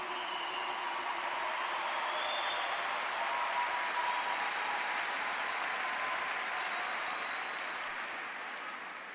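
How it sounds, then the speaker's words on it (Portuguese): At a religious camp gathering, a big crowd keeps up a broad, even wall of applause for several seconds, the massed clapping mixed with faint crowd voices and easing slightly toward the end. "pode aplaudir"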